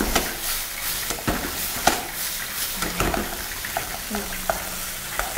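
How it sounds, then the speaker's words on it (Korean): Celery and onion stir-fried in a pan for chili shrimp sauce, a steady close sizzle broken by repeated scraping stirs and clanks of the utensil against the pan, with no talk. "야채가 숨이 좀 죽을 때까지 볶아주시는 게 더 좋아요"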